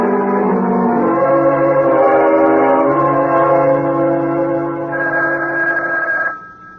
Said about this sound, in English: Wake up, the phone.